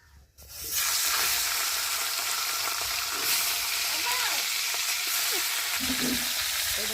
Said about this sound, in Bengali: আর এবার আমি মাছের মাথাটাকে দিয়ে ভালো করে ভেজে নেব।